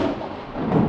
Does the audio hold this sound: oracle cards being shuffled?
no